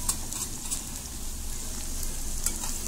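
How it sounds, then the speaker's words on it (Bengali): Drumstick flower fritters fry in oil over low heat, producing a steady crackling sizzle close by, with occasional sharper pops breaking through the continuous hiss. "একটু লাল লাল করে ভাজা ভাজা করবো"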